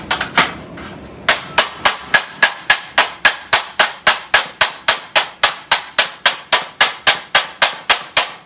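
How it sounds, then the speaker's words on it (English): Steady, evenly spaced hammer blows peening the rusty rear frame of a 1970 Challenger ring out on metal, about three per second, sharp and loud, after a brief scrape at the start. "let's do that little bit of peening that needs to be done"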